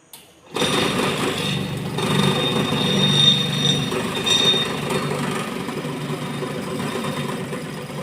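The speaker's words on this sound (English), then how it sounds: "Now we need to switch on that motor for vibration." A sand sieve shaker's vibration motor switches on with a sharp start and then runs steadily, a loud continuous mechanical rumble and rattle that holds constant throughout.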